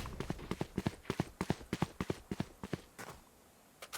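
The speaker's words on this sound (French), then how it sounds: "il y a eu un bruit de pas à gauche" Footsteps in the tactical shooter Valorant come from the player's left as a quick, steady run of crisp thuds at moderate level, then slow to a few scattered steps near the end.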